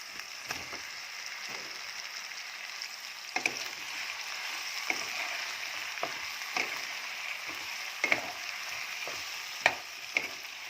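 Chandramukhi potatoes frying in oil in a home kitchen, giving a steady soft sizzle with scattered sharp clicks and scrapes of a utensil against the pan throughout.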